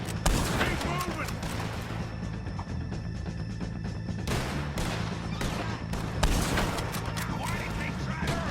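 Dense, continuous gunfire rolls through a Red Dead Redemption 2 shootout, a busy mix of overlapping shots and booms with a few louder bursts, heard as a constant loud background layer.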